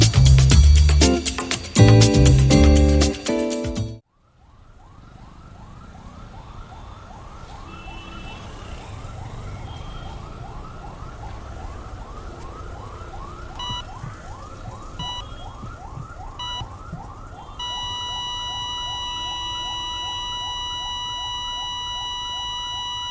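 An ambulance siren wails in a steady, repeating rising and falling cycle for most of the clip, loud and close. A short burst of loud music comes before it.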